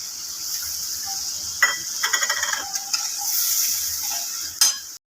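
Mustard paste is added to a pan of fried spices with green chillies for a hilsa mustard curry, then stirred: a steady sizzle with a burst of wet scraping and stirring in the middle and a clatter near the end.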